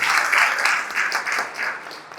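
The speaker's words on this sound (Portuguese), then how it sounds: "Gente, uma salva de palmas para todos vocês." A group applauds itself after an exercise at a stress-management session, with brisk, bright clapping from a modest crowd close by that holds steady for a couple of seconds and then eases slightly.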